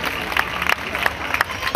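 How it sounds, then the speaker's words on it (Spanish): A pageant audience at the XLV Serranilla de Mágina in Huelma applauds a contestant, a short, fairly loud burst of crowd clapping. "Un aplauso para ella, Isabel Morales, la representante de Jimena"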